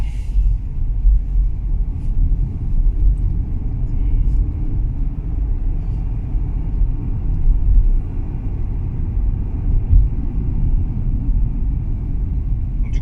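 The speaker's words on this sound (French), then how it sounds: "Je suis en deuxième, le frein moteur il est en galère de ouf" A 2018 Peugeot 3008 with a 1.2 PureTech 130 hp three-cylinder petrol engine, engine braking in second gear, gives a steady low droning rumble heard from inside the cabin, without speech.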